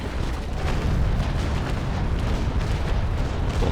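Ship cannons fire from a sailing warship, the Ingermanland, in the Naval Action game, a dense, sustained barrage of overlapping booms and rumbling blasts filling the clip loudly without pause.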